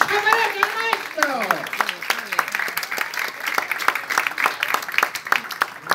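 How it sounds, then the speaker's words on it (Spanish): Loud applause from an audience at an International Puppetry Day tribute in Peru, with brisk, dense clapping building and continuing while a voice talks over it at the start. "Un aplauso fuerte como se merece el maestro."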